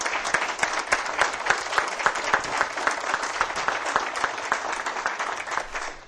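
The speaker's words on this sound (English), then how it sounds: "So if we can have a hand of applause." Audience at a Pennsylvania Gaming Control Board public meeting gives a round of applause, brisk rhythmic clapping from a small room of people, steady and moderately loud before tapering at the end.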